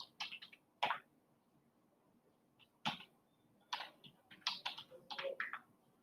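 Computer keyboard typing in short, quick bursts of close, crisp keystrokes separated by brief pauses, with no talking.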